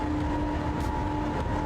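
Train rumbling along in the SimRail simulator, a steady rolling drone with a faint tonal hum and light rhythmic rail clicks, heard alone at moderate loudness.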